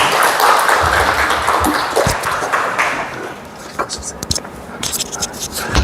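An audience at a church mission gathering breaks into a burst of clapping that fades after a few seconds, giving way to scattered taps and quiet voices.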